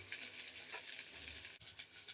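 Shrimp frying in hot oil in a pan, a steady, soft crackling sizzle throughout with one brief clatter partway through.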